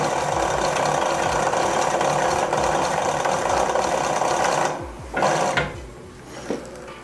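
Blind hem sewing machine running steadily at reduced speed with a continuous mechanical whir, then stopping into near silence, with a couple of brief restarts and clicks near the end.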